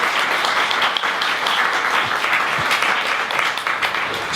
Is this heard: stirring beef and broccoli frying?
no